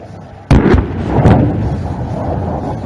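Rockets launched from an aircraft at the Vayu Shakti 2019 firepower demonstration on the Pokhran range in Rajasthan, a sudden loud blast followed by a second burst and a long rolling roar fading in the distance.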